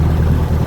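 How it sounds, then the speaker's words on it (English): A narrowboat's diesel engine is revved up while cruising on a canal, a loud, steady low throbbing drone close by for a brief moment. "So I'm going to get a couple more revs on, just to make sure I've got some speed"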